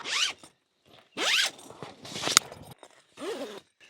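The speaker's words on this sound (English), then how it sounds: "Zip that on." A zipper being drawn closed on a fabric awning attached to a 4x4 car, heard as four separate close, loud rasping zips with short pauses between them, plus a faint click of handling.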